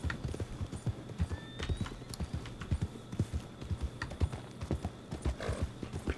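A donkey walks in Red Dead Redemption 2, its hooves clip-clopping in a steady, moderately quiet rhythm throughout, with faint game ambience behind.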